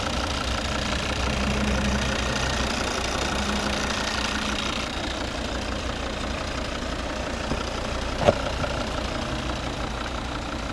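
The 2.0 D3 diesel engine of a 2013 Volvo V60 R-Design runs steadily with a low, knocking rumble, idling continuously with one brief click partway through.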